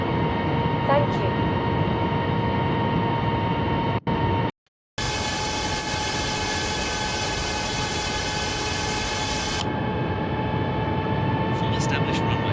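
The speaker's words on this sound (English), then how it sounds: "we have just been cleared to land at our destination" Interior of an airliner on final approach to land, a steady loud engine and airflow roar filling the cabin, with a brief dropout midway and faint chimes near the end.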